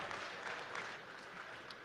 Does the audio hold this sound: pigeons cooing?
no